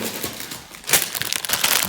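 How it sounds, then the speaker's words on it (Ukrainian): A plastic packet from an unpacked Lego parcel crinkles in short, irregular rustling bursts close to the listener, growing busier in the second half. "ось отакий пакетик мені Володимир присилав"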